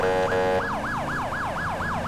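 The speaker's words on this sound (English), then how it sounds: "All right, we're gonna be escorting an ambulance." An ambulance siren in the GTA 5 video game wails in a fast, steady yelp, each rising and falling sweep repeating about every quarter second. It is loud and close over a low engine hum, with no talk.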